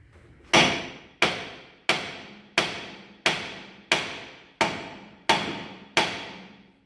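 Hammer whacking on an outer tie rod end of a 2005-2010 Chrysler 300 to knock it free, nine loud metallic strikes at an even pace of about one every 0.7 seconds, each ringing briefly before the next.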